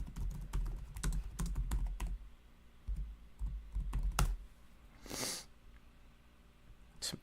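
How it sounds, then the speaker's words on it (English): Keys tapped on a computer keyboard while entering a book title into a search, a burst of clicks then sparse single strokes, close and moderately loud, with a short breathy rush near the end. "Okay, I'll just type it."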